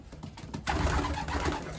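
Young pigeons on a loft landing board coo softly. A louder, steady wash of noise sets in partway through and runs to the end.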